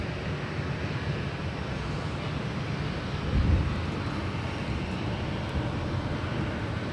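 An ANA Boeing 777 airliner at LAX roars at a distance, a steady broadband jet rumble that swells briefly midway, mixed with outdoor airport ambience and no talking.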